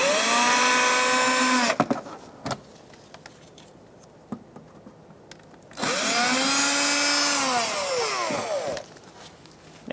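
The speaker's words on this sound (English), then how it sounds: "Using a Phillips head bit on my drill," Cordless drill fitted with a Phillips head bit backing screws out of a 2014-2019 Kia Soul grille: two loud whining bursts a few seconds each, pitch rising and falling, separated by quiet clicks and handling noise.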